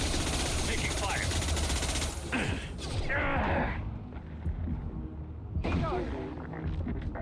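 Sustained automatic gunfire in the Mass Effect 2 video game, loud and continuous at first, then easing into sporadic bursts with mechanical clanks; speech is heard alongside.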